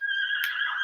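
A horse in the video game Shadow of the Colossus gives a short, loud neigh, a bright whinny heard close and alone with no talking.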